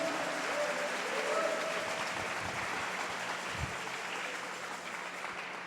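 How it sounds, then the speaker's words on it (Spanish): Church congregation applauding, a sustained wash of many hands clapping at moderate distance, steady throughout with faint crowd murmur underneath. "Alguien déle una ofrenda de palmas al que vive"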